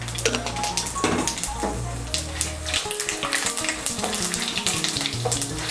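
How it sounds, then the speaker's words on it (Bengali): Panch phoron spices frying in hot oil for a Bengali mixed vegetable labra, a steady crackling sizzle with faint stirring scrapes running throughout, close and moderately loud with no talking. "ফোড়নটা দিয়ে একটু নাড়াচাড়া করে নেব, যখন ফোড়নের থেকে একটা সুন্দর গন্ধ বেরোবে"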